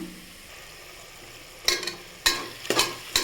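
Biryani masala sautéing in a pressure cooker for prawn biryani, with a low sizzle and several sharp stirring scrapes arriving in bursts in the second half.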